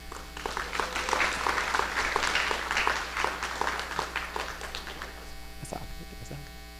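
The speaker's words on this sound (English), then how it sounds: "So please give her a round of applause." An audience at a Family Day event gives a moderate round of applause, scattered claps building and then thinning out over a steady electrical hum in the room.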